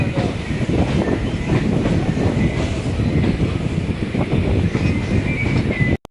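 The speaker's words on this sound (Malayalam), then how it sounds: "അപ്പോൾ ഇതാണ് നമ്മുടെ AC ലോക്കൽ ട്രെയിൻ." An air-conditioned Chennai local train at Chennai Beach station makes a loud, close, continuous rumble with rattling and wind buffeting, which cuts off abruptly at the end.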